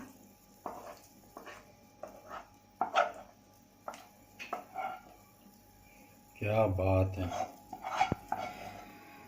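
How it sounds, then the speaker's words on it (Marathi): Cashew chikki mixture worked from a pan onto a greased board: scattered clinks and scrapes of a utensil on metal, close and moderately quiet, followed by a longer scraping pour near the end, with someone talking between the sounds. "आता हे चिक्कीचं सारण आहे ना ते ओतून घेऊया"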